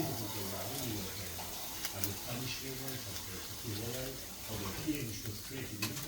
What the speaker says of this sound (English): Might as well just wash that out quicker than getting a clean one